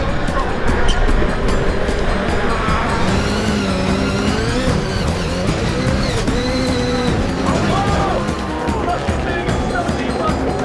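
Subaru rallycross race cars roar down the straight into the first corner, loud engines with rising and falling revs close by, overlaid by commentary.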